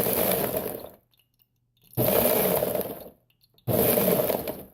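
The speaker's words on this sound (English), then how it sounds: "excuse me as I pulsate my broccoli" Food processor pulses broccoli in three loud whirring bursts of about a second each, separated by short silences, close and harsh.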